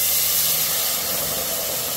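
Ground tomato hits hot oil already holding mustard seed and cumin, setting off a loud, dense, even hiss of sizzling that holds steady throughout.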